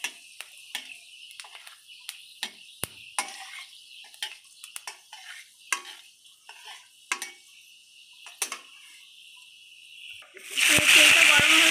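Drumstick stalks stirred in hot oil in a pan with dried chillies and five-spice, sharp spatula scrapes and clinks at irregular intervals, ending in a loud burst of frying sizzle.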